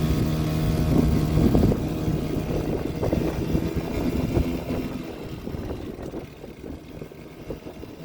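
A 2001 Hyosung Sense scooter with an electrical fault runs on a test ride, its small engine droning and buzzing nearby, loud at first and then slowly fading with slight revving changes, no voices.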